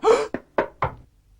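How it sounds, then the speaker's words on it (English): Four sharp knocks in quick succession, loud and close, then silence. "We were suddenly brought to a standstill by a knock at the door."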